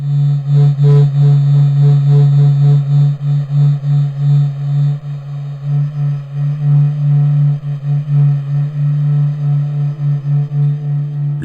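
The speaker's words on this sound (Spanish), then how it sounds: "Lo que acabas de escuchar es el latido del Sol captado por el Observatorio Heliosférico Solar de la" The Sun's pulsing hum as recorded by NASA's SOHO solar observatory: a steady, loud low drone with layered overtones and a slow, irregular throbbing swell, alone and without voices.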